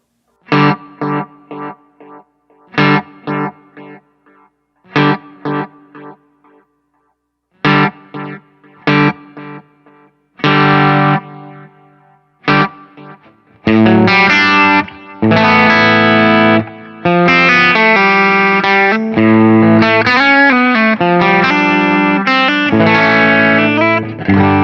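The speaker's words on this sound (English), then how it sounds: "Let's put a fancy delay on here." Guitar played through a Line 6 Pod Go preset with distortion and a delay effect: first sparse plucked chords with gaps, then a dense, continuous driven passage with echoing repeats trailing each note, loud and alone.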